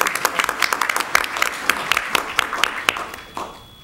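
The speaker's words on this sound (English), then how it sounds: "Clap for our social workers." Audience at a Stafford County school board meeting applauding social workers, a scattered round of hand claps from a modest crowd, fairly close, trailing off toward the end.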